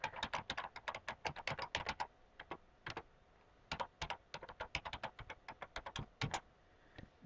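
Login and password are typed on a computer keyboard in quick, close clattering bursts of keystrokes with short pauses between runs, quiet and with no voices.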